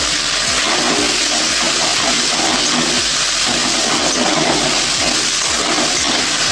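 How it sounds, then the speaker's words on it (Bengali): Water splashes into a pan of frying ginger-cumin paste with chili, tomato, coriander leaves and five-spice seeds, setting off a loud, steady hiss and sizzle that fills the whole stretch without pause. "আমি সামান্য জল দিয়ে দিলাম মশলাটা কষানোর জন্য।"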